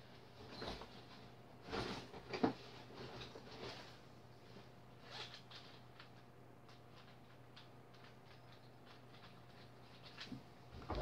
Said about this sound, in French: donc le bruit chelou, c'est mon micro que je dégage